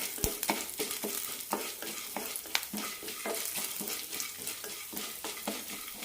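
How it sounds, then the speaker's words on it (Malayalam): Urad dal and chana dal with curry leaves frying in oil for a thoor peas curry, a low steady sizzle under repeated spoon scrapes and stirring clicks against the pan, close and quiet. "പരിപ്പുകളൊന്ന് ചോക്കുന്നത് വരെ വറുത്തെടുക്കാം"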